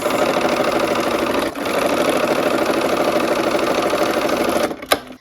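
A sewing machine stitches quilt block units in a steady, continuous mechanical whir that runs close and loud, dips briefly near the start, then stops with a couple of clicks at the end.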